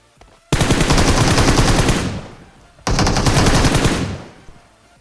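Automatic gunfire during a 1v1 fight in a battle royale game, two loud sustained bursts of rapid shots, each lasting about one and a half seconds and then fading, separated by a short lull.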